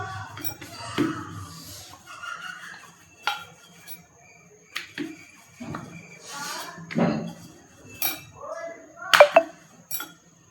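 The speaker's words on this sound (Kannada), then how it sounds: "ನಾನು ಈಗ ನಿಮ್ಗೆ ಇನ್ನೊಂದು ಚಪಾತಿ ಲಟ್ಟಿಸಿ ಮಾಡಿ ತೋರಿಸ್ತೇನೆ" Chapati dough being rolled out with a rolling pin on a board, a string of soft knocks and clinks at an uneven pace, with a voice speaking at times.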